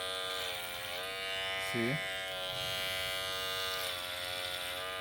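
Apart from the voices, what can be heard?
electric hair clipper buzzing with dull blade, not cutting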